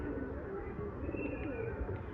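Pigeons coo in low throaty murmurs over a steady outdoor background, with faint flutters and scuffles as the birds fight nearby.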